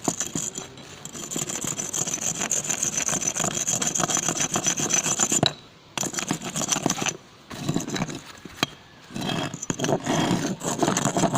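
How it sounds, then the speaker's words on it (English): A salvaged house brick is scraped to strip off moss, giving a steady gritty rasping close by that breaks off in a few short pauses near the end. "Scrape, remove any moss."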